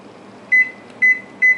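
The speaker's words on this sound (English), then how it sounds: "So I'm just going to show you my microwave here." A household microwave oven's control panel is set, giving three short, loud electronic beeps spaced about half a second apart over a faint background hum.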